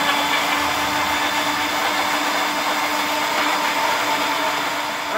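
An electric kitchen blender runs steadily from start to end, a loud, even whirring drone with a constant motor hum, while chicken is prepared for a mayonnaise dish. No one speaks.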